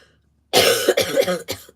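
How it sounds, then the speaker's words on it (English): A burst of several harsh coughs close up, following a moment of near silence. "Still coughing."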